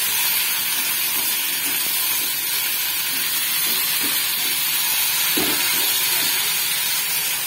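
Chopped ridge gourd and green chillies frying in a pan, a loud, steady close sizzle and hiss throughout with faint scraping as they are stirred, no voices.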